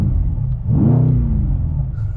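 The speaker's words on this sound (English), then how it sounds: "So now the exhaust valves are open." A 2020 Mercedes C63 AMG with its exhaust valves open gives a single deep revving blip, heard from inside the cabin. The loud low rumble swells and fades within about a second.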